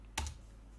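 A single quiet keystroke taps on a computer keyboard, a brief, close click in a hushed room.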